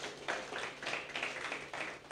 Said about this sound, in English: could you give a round of applause to your instructors?